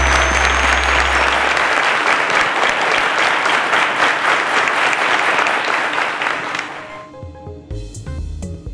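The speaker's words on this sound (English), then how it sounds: "A round of applause to them, ladies and gentlemen." Loud, close audience applause in a television quiz show studio, dense and continuous for several seconds before it thins out and fades, leaving faint background music and studio noise.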